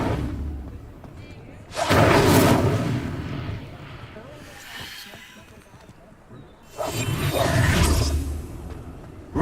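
Incendio fire spell cast in Hogwarts Legacy, two loud bursting whooshes of flame with crackling hiss, the second following several seconds after the first, separated by quieter ambience.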